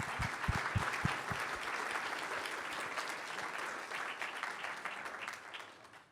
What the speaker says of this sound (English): So a big round of applause for Alyssa and everyone around her.